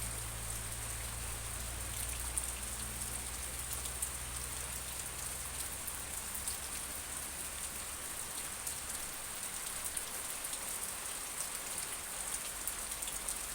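Steady rain falls at a house in Nakhon Pathom, Thailand, a continuous even hiss of drops on surfaces with no voices, a low rumble fading out in the first seconds.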